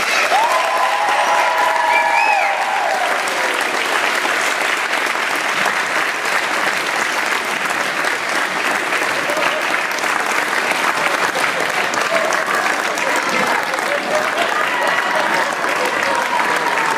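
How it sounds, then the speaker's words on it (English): A theatre audience gives loud, sustained applause for the cast of an Oz stage production. A thick, unbroken roar of clapping carries some cheering and whistles near the start, and crowd voices stay mixed in throughout. "one more huge round of applause for our cast"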